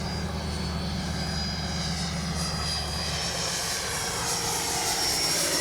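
A Freewing 90mm Eurofighter Typhoon RC jet in flight, its ducted-fan whine forming a steady, loud broadband roar that holds throughout and swells slightly toward the end, with no talking.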